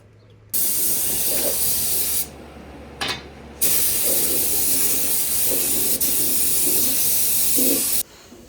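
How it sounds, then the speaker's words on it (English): A paint sprayer hisses in long, loud bursts while coating Fox-body Mustang undercarriage parts. Two extended sprays are separated by a short spurt and a pause, with a faint low hum between them. "Third batch going in the sprayer."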